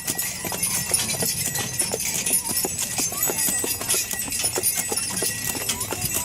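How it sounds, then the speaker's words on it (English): Steady clip-clop of horse hooves at an easy walking pace, with creaking and rattling of a pulled sleigh or wagon at a winter festival and faint chatter in the background. "So this is a pretty easy day for horses, isn't it? Full of wagons."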